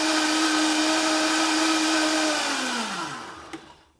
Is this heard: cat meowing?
no